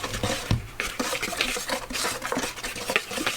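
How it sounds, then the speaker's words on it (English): A whisk mixes batter with baking soda in a bowl for chicken wings, giving quick close scraping and clinking strokes in an uneven rapid rhythm, with no talking. "grab a whisk and just basically mix that all together"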